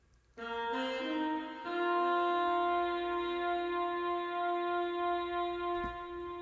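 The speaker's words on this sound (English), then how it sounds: "Now this one with the ping pong effect sounds like this." Synth chord sample for a West Coast R&B beat, run through a ping pong delay: sustained harmonic tones enter after a brief quiet start, then hold steady and loud with echoing repeats, no voices.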